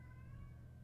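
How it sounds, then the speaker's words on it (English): An unhappy cat gives a single drawn-out meow, faint and fairly close, standing alone with no talk. "And that is a cat. That is very unhappy."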